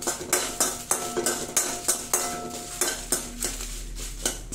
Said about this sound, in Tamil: வத்தல் கொஞ்சம் நல்லா பொரிஞ்சு வரட்டும்